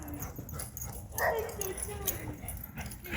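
Several dogs romp and play at a dog park, giving quick yips and soft whimpers over a steady outdoor wash of background noise and low voices.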